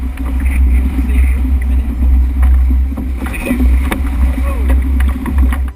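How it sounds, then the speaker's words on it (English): A solo ocean rowing boat on an Atlantic crossing near Barbados is rowed one-armed, giving a steady low rumble of water and hull with faint creaks and splashes throughout, fairly loud and close. "This means a lot of one-arm rowing."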